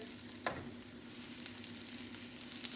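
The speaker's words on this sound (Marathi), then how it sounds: "आनी हांव आतां फ्राय करपाक घालया." Goan beef cutlets fry in a pan with a soft, steady sizzle and one brief clatter near the start, fairly quiet and without voices.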